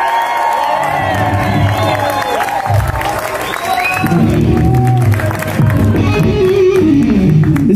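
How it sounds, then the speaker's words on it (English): Crowd at Count's Vamp'd in Las Vegas claps, cheers and whoops for guitarist Pat Thrall during a live rock show, loud and close, with shouting voices and instrument tones woven through the noise. "Give him a round of applause,"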